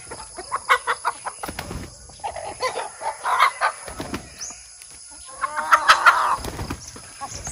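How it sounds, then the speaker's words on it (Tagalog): Free-range chickens cluck busily near the listener on a farm range while a rooster lets out a loud crow partway through, the flock's chatter continuing around it, with no voices. "Ito katambayan, mga manok."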